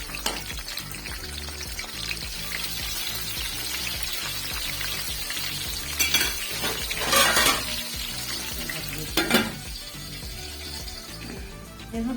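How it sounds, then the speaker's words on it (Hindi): Chopped tomatoes drop into a pan of browned onions frying in oil for a black chickpea pulao, bringing a steady sizzle and louder bursts of hissing as they hit the hot oil. "तो मैं यहाँ पे डालूँगी टमाटर मैं इस तरीके से डालने लगी हूँ इसमें।"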